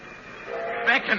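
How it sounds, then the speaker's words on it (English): A train whistle sound effect from a 1946 radio drama of The Hitch-hiker, a steady tonal wail that swells louder toward the end, close and prominent. "The train was coming closer. I could hear its bell. Heard its cry, its whistle crying."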